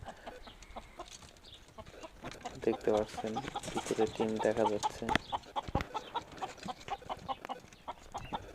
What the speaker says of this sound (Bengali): দেখতে পাচ্ছেন এখানে কিছু মুরগি আছে, এখানে মুরগিও পালন করা হয়।